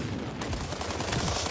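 Dense, loud gunfire from the video game World War 3 fills the moment: rapid overlapping automatic shots and bursts with no pause and no voices.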